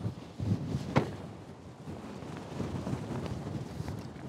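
Gusty wind rumbles against the microphone in a low, steady roar with a couple of sharper buffets early on; no voices.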